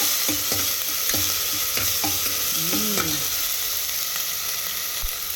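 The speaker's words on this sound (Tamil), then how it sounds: "டீஸ்பூன் ஜிஞ்சர் கார்லிக் பேஸ்ட் போட்டு நல்லா சாட்டே பண்ணிடலாம்" Ginger garlic paste sautéing in a pan: a loud, continuous sizzle with rhythmic scraping strokes of a spoon stirring every second or so, close and alone.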